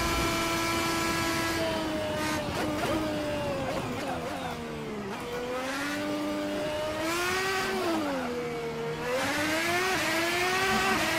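The Red Bull X2010 race car in Assetto Corsa howls around the Nordschleife. Its high-pitched engine whines steadily, rising and falling through rapid gear changes and revs, loud and close throughout with no talk.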